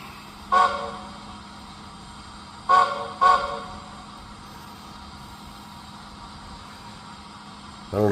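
Model train locomotive with a playable whistle giving three short toots, one near the start and two close together near the middle, standing out clearly over a steady low background hum.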